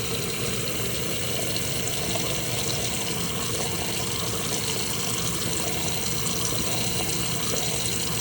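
An apartment sink faucet running, a continuous steady rush of water into the basin, close and constant throughout with no talking.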